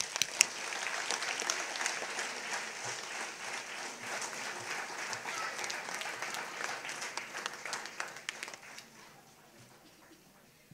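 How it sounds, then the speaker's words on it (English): Concert audience at a New Year's Day world music and dance show applauding a student group, a sustained burst of many hands clapping that gradually thins and fades toward the end. "let's welcome Team Leap with a big round of applause"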